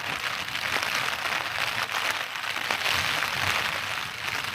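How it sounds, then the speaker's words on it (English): Rain patters steadily on a tent at night during a wet camping trip, a dense, even hiss of drops that carries on throughout. "fall asleep to the patter of raindrops"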